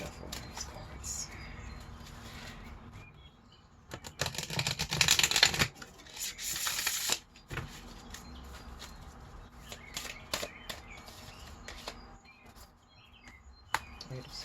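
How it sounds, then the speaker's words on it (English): Tarot cards are shuffled in bursts of crisp riffling and flicking, louder in the middle, between quieter stretches of soft handling. "One more shuffle of these cards."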